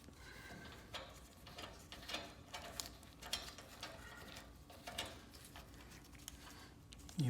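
Set screws being tightened on a garage door torsion spring: faint, irregular mechanical clicks and ratcheting ticks spread through a quiet room, with a brief louder knock at the very end.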